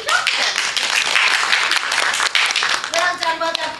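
Children in a small fairy-tale play production are applauded at the end of the show, a few seconds of dense, lively hand clapping with voices mixed in.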